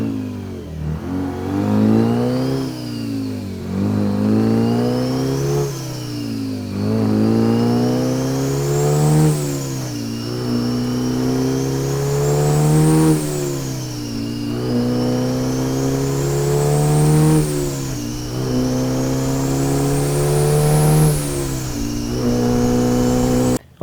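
A Diamond T truck with a Detroit 4-53T diesel engine and Roadranger transmission pulling through the gears, its loud, close engine note rising in repeated sweeps, dropping at each shift, then climbing again with a turbo whine above.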